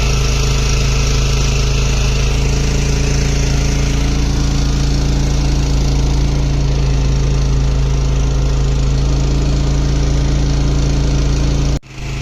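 A boat engine on the fast-flowing Ganges at Varanasi drones loudly and steadily, close up and unbroken for the whole stretch, cutting off abruptly at the very end.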